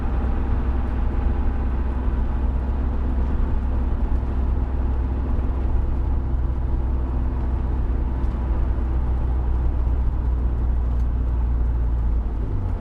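A Land Rover Discovery running on 100% waste vegetable oil accelerates on a road, its engine a steady, loud, low drone heard from inside the cabin with no talk.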